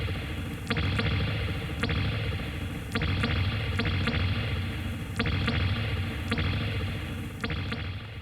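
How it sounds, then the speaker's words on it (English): A Ramona DSR3 stereo spring reverb on a mix, giving a loud, continuous wash of dense reverberant sound with sharp splashy transients recurring roughly every second and long diffuse tails, with no voices. "I have a Ramona stereo spring reverb"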